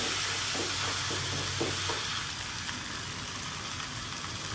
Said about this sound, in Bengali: দেখুন গোটা গোটা ভেন্ডিগুলো রয়েছে আমি সুন্দর করে এটাকে কষিয়ে নিচ্ছি